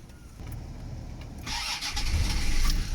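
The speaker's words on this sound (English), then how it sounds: "why don't you just start the car?" A Land Rover Discovery TD5 diesel, in neutral, cranks briefly and then catches, settling into a loud, close rumbling idle that builds over the last half of the clip.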